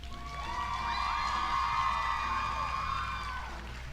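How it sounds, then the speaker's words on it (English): An audience cheers and whoops for pageant candidates, a sustained, fairly distant crowd roar with high shouts layered over faint clapping, holding steady for several seconds. "a round of applause for all of our lovely candidates"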